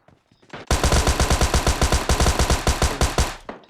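A Thompson submachine gun fires a single sustained automatic burst in the video game PUBG Lite, about twenty loud, evenly spaced rapid shots in close succession, with no talking.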